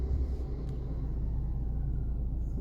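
Car engine held at raised revs in an underground basement car park, a steady low rumble with a faint hiss, droning evenly throughout with no speech.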